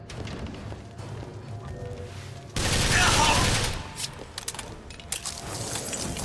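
Gunfire in the video game Bioshock Infinite: Burial at Sea, with a loud burst of rapid shots in the middle and scattered clicks and impacts around it, heard over game background sound.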